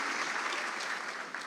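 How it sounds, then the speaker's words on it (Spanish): Steady applause from a church congregation, dense and continuous throughout, moderately close and without pauses. "están aplaudiendo y vos hablás y no te escuchamos"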